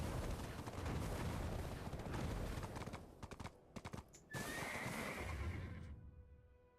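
A horse in the Black Desert video game whinnies and clops its hooves in a loud burst, its neigh rising near the end before the sound cuts to quiet.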